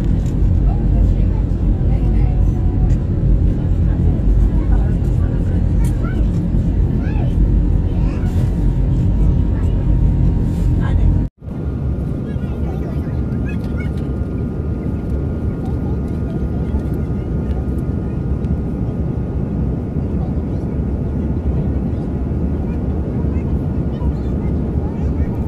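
Steady loud roar of a jet airliner cabin cruising at altitude above Mumbai, a dense continuous rumble with a brief dropout partway through, then the hum resumes evenly.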